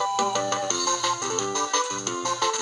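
A short chiptune jingle plays as an enemy is defeated in Kirby and the Amazing Mirror, a quick run of bright beeping tones at moderate volume with no talk over it.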